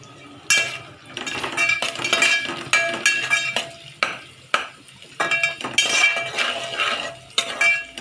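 Whole spices (bay leaf, peppercorn, clove, small cardamom and cinnamon) dropped into a cooking pot for a mixed vegetable and dal khichadi, giving repeated clinks, stirring scrapes and a light sizzle in an uneven rhythm, with no talking.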